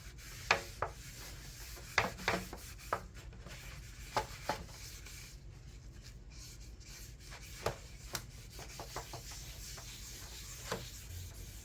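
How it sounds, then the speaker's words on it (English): A dry rag wipes excess oil off a wooden cutting board, making soft, quiet rubbing and scuffing strokes with scattered light taps, close by and with no talking. "I'll come back with the dry rag and then clean up any of the excess oil that hasn't been soaked up yet into the wood."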